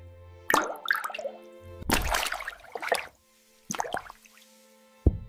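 Drops of different liquids fall and plop one at a time, four or five distinct wet splashes with ringing bubbly tails separated by quiet gaps, close and clear.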